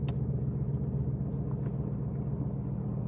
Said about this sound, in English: Now you might hear the engine of my car